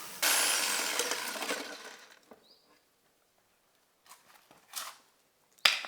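A loud burst of sawing rasp from a jigsaw cutting through a panel, fading out, followed by a few short bursts of cutting and a final sharp clack.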